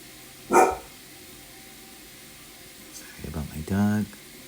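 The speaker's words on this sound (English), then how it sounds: "Sorry about my dog." A dog barks indoors during a candle wax reading: one sharp bark near the start, then after a pause a short burst of rougher barks and yips, close and fairly loud against a quiet room.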